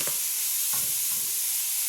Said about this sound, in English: Let's go ahead and get this frying.